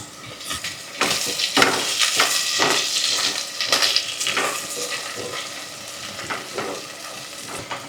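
Dried coconut powder and curry leaves sizzle and crackle in a pan while being stirred, close and fairly loud, with scraping stirs coming in uneven bursts over a steady frying hiss.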